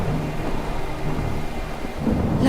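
Steady heavy rain during a thunderstorm, with low rumbling thunder building toward the end; loud, continuous, and free of speech.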